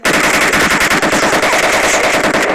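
Rapid, continuous automatic gunfire from PUBG Mobile on the Livik map, loud and dense bursts filling the whole stretch with no pauses and no talking.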